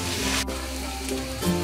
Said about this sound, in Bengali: দর্শক দেখুন, চালটা ভাজা হয়ে গেছে।